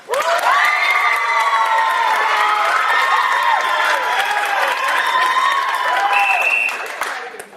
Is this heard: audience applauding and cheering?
yes